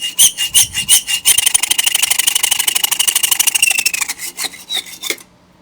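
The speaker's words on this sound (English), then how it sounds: "it is sawing like it's hardened though" A saw rasps rapidly back and forth through a hardened metal bolt, a loud harsh grinding rhythm that speeds up, then stops abruptly, leaving silence.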